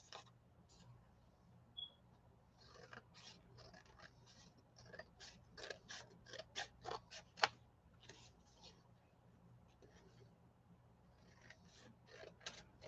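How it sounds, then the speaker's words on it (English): Quiet, irregular snips and clicks of scissors trimming gel-print painting paper for a junk journal come close by, in scattered bursts with a few louder cuts. "I'm just going to trim it up a bit because it's hadn't been trimmed"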